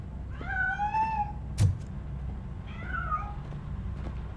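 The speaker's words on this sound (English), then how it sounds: "That cat must be hiding inside." Cat meowing inside a building in the video game Robocop: Rogue City, two clear drawn-out meows separated by a sharp click, fairly close over a low steady background hum, no talking.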